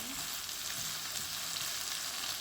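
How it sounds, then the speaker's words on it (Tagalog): Tomatoes fry in a pan with a steady, dense sizzle and soft crackle, fairly quiet and close, with no talk over it. "Lutuin lang natin ang ating kamatis."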